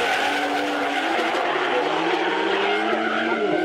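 BMW drift car sliding through a competition course, tyres screeching loudly and continuously as the engine note rises and falls, with a steady roar and no break in the skid.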